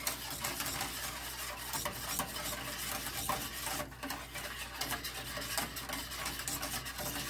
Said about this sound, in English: We're going to mix this up real good.